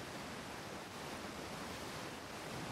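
Steady, unbroken rush of water noise as a character moves through water in the video game Outer Wilds, filling the whole stretch at a soft, even level with no talk.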